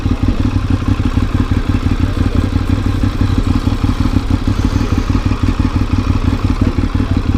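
A motorcycle engine runs steadily close by, a loud, even, low-pitched rumble with rapid pulsing and some mechanical clatter throughout.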